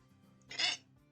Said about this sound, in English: Oh, sorry, hiccup.